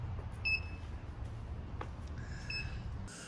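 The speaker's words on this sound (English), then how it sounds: "the beep will be every 2000 milliseconds or 2 seconds" An ESP32-driven buzzer in a car reverse range warning gives short, faint high beeps about two seconds apart over a low background hum.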